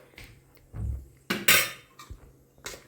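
A spoon clanking and scraping against a pot while pickle is stirred, several separate metallic knocks and scrapes in an uneven rhythm, close and fairly loud.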